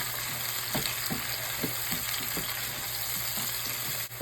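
Tomato, garlic and onion frying in a pan for pork menudo, a steady close sizzle with scattered crackles and occasional stirring scrapes throughout.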